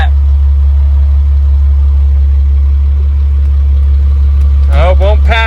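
A 2003 Cummins diesel engine idles steadily and loudly up close with a deep, constant drone, and a voice speaks briefly near the end.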